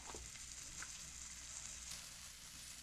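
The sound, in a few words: thinly cut pork steak frying in a pan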